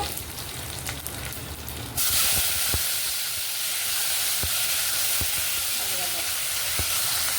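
Cumin seeds and two chopped onions hitting hot oil for a meal maker curry, a quiet background that jumps to a loud, steady close sizzle and hiss with a few faint clicks.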